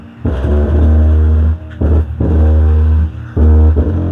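A repaired subwoofer pumps out loud, deep bass in heavy bursts. Three sustained throbbing blasts are separated by short drops, and each returns at full force.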